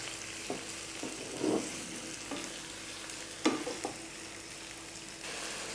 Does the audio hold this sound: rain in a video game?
no